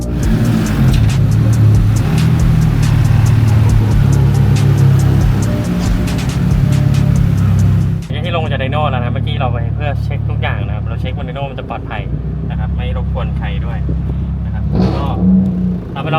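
Honda Civic FD with a K-series turbo engine and DSG gearbox driving on a road, a steady loud engine drone that shifts to a lower note partway through, with someone talking over it.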